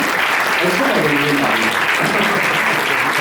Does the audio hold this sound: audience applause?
yes